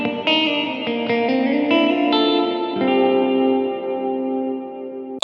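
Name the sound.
JHS 3 Series Reverb pedal, guitar reverb cranked halfway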